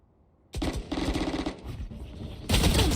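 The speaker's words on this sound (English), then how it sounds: "Flames hears the shots from the Ghost" Loud bursts of rapid gunfire from a Ghost pistol and other weapons in a Valorant esports match, starting suddenly after a short silence and intensifying near the end.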